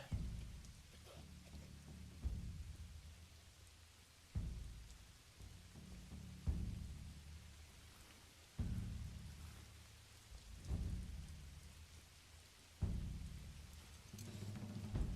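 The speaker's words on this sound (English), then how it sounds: "It is raining." Steady rain pours in the medieval city-building game Manor Lords, broken by loud thunder rumbles that strike roughly every two seconds, each one swelling and then fading back into the hiss.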